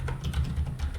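Keys on a computer keyboard tapped in a quick run while entering a command, a close, steady patter of clicks with no talking.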